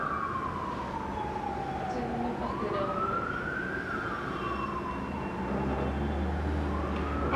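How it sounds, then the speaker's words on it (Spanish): A loud emergency siren wails continuously, its pitch sweeping slowly up and down, with a low rumble of traffic underneath and no talking. "Está potente la sirena esta."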